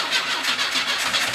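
An engine of a 1982 Pontiac Firebird, abandoned for 25 years, cranks and catches, giving a loud, close, continuous rumbling churn with a rhythmic pulsing as it struggles to start.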